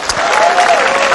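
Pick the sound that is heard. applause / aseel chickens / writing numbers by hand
applause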